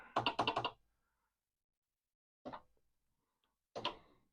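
Keystrokes on a Commodore PET 4032 keyboard with a sticking delete key: a close, rapid burst of several clacks, then silence, then two isolated heavier key hits spaced a second or so apart.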